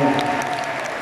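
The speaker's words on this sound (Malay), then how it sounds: "Boleh tak satu tepukan?" Applause from a school event crowd, a short dense burst of clapping that starts loud and gradually fades, with faint voices underneath.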